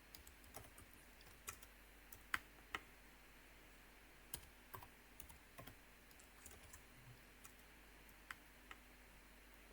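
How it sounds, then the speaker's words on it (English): Quiet typing on a computer keyboard, scattered soft key clicks in an uneven rhythm over a faint steady background hum. "Why can I hear my typing now?"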